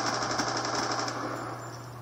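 Rapid automatic gunfire in Black Ops 2 rattles on steadily through the whole stretch as a continuous, fairly loud burst with no pauses, and no voices are heard.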